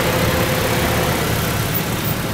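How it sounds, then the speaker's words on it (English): A 2013 Honda Civic engine idles steadily close by, a continuous low rumble with broadband mechanical noise and no speech. "Underneath the hood, this engine runs great."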